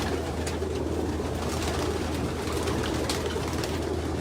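Pigeon cooing, a band-ringed show bird, with soft repeated low coos over steady background noise and a busy loft ambience throughout.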